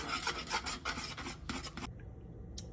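Whisk scraping rapidly around a pot of grits, a rhythmic rasping swish of about a dozen quick strokes, close and moderately loud, then stopping abruptly, with no talk.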